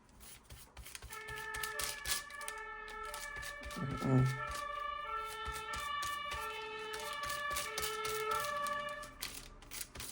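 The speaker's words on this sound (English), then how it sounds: "That is not a good sound if you can hear it, an ambulance siren." An ambulance siren wails, rising and falling steadily in the background for the whole stretch, fairly distant and sustained, with no talking over it.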